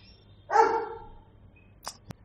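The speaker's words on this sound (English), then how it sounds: "why is the dog barking right now?" A single dog bark rings out clearly indoors at moderate distance, one burst lasting about half a second, followed by a couple of faint sharp clicks in an otherwise quiet room.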